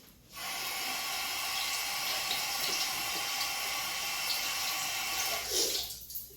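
Water runs steadily from a tap to wet something, a constant hissing splash that starts abruptly, holds evenly for several seconds, then cuts off, no talk.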